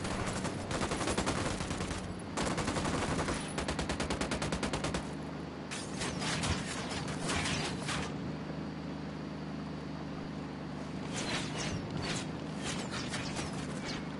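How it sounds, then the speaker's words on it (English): Rapid gunfire rattles in a video game shootout, with sustained automatic bursts in the opening seconds and further volleys later, some distant and some close, over a steady engine-like hum. "What is shooting at us?"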